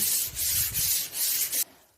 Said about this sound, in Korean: 핸드코트는 부드러운 입자라서 사포를 하는 것이 그렇게 힘들지는 않을 거예요.